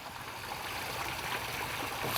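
Water from a garden pond waterfall, circulated by a pump, splashes and runs in a steady, soft rushing wash heard close by with no voices.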